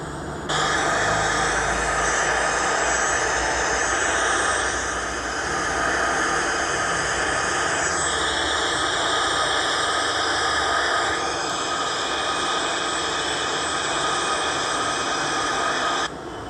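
An airliner in Infinite Flight flies through hurricane-force winds, a loud steady jet engine roar with rushing wind that shifts in tone a few times, continuous throughout.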